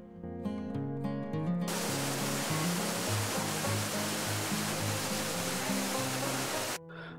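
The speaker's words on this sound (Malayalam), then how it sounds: "നെല്ലിയാമ്പതി മലനിരകളിൽ നിന്നായി വെള്ളം ഒഴുകി വരുന്ന ഈ വെള്ളച്ചാട്ടങ്ങൾക്കൊക്കെ മുകളിൽ ഒന്ന് രണ്ട് അമ്പലങ്ങളുണ്ട്." Water pours down a waterfall from the Nelliyampathy hills near Kollengode, Kerala, as a loud, steady rushing roar that cuts in suddenly and stops abruptly, with music playing underneath throughout.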